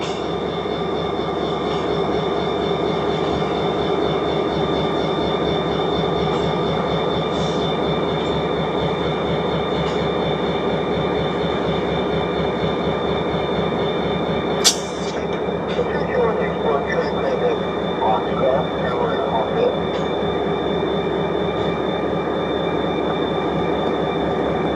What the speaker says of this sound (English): Last car on 369, pulling a Conrail auto rack.